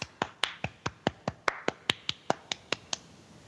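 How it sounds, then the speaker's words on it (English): One person clapping hands, about fifteen sharp, evenly spaced claps, close and alone in a quiet room. "Somebody's clapping."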